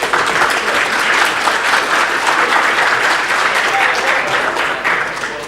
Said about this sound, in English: Let's give MacLemon one more applause